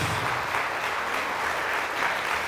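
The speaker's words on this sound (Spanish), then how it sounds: "Fuertes aplausos a Jesús" A church congregation claps steadily through a prayer service, a dense, even patter of many hands held at a moderate, somewhat distant level with a faint low hum beneath.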